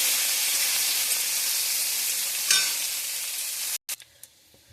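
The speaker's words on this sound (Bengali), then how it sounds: "পেঁয়াজ ভাজা হয়ে গেছে" Onions frying in a pan with cumin and bay leaf hiss in a loud, steady sizzle with a single stirring scrape, then the sound cuts off abruptly and only faint clatter follows.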